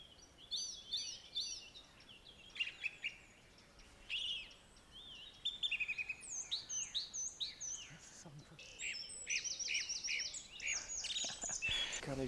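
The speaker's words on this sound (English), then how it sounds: "it's a song thrush sat on the top of a tree" A song thrush sings from the top of a tree at dawn, its clear, repeated whistled phrases coming in bright bursts at moderate distance over a quiet background.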